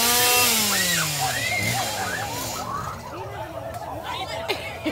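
A chainsaw engine whines and revs in the opening seconds, then fades under mixed outdoor voices and chatter.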